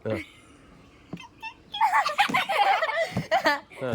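After a brief adult voice, a child makes a rapid run of high, squeaky peeping sounds mimicking a chick, mixed with giggly vocal bursts.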